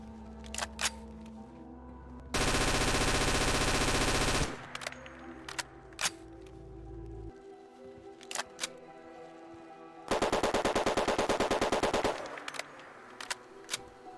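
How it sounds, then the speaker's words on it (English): Two long bursts of rapid automatic service rifle fire from Fallout 4, loud and aggressive, separated by sharp mechanical clicks and clacks of weapon handling. "take the original service rifle and remake the sound of it to sound a bit more aggressive"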